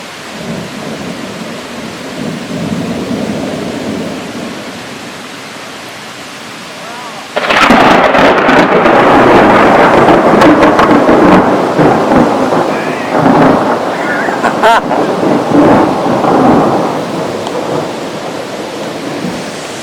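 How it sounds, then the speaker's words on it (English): Violent thunderstorm over the Rockies: a quieter stretch of rain and low rumble, then a loud thunderclap that breaks in and rolls on, heavy and sustained, with crackling and rain throughout, no talk. "the whole area shakes and trembles from the thunder as this violent storm passes through"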